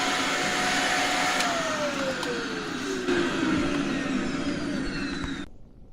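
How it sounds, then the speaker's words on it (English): A vacuum cleaner powered by an Ecoflow Delta 1300 solar generator drones loudly and steadily nearby, its whine gliding downward in pitch before the motor cuts off abruptly near the end. "there was a huge spike there when I turned the vacuum on"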